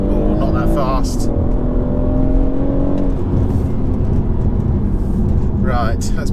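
A BMW M140i launches hard from a standstill on a 0-60 run, its engine note climbing loudly through the gears with a brief dip at a shift, over steady road and wind roar.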